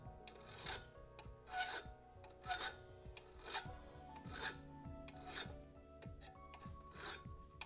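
Rasping strokes of a hand file working in a garage, about nine steady back-and-forth passes in an even rhythm, close and moderately loud over a low tonal hum.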